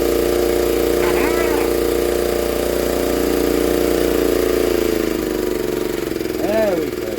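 A small 1960s Honda ED250 DC-only generator engine runs steadily and loudly nearby, its low, even drone filling the clip while someone talks over it.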